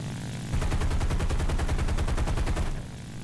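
Rapid machine-gun bursts from an SBD-3 Dauntless dive bomber strafing anti-aircraft guns in War Thunder, a loud, dense rattle of evenly spaced shots lasting about two seconds over steady engine drone.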